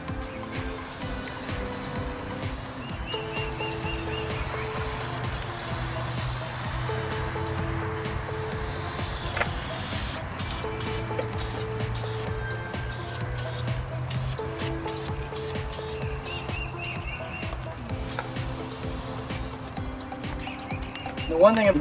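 Clear coat being sprayed from a can onto a car panel, with long hissing bursts broken by short pauses and then quicker rapid spurts, heard close up while a person talks at times.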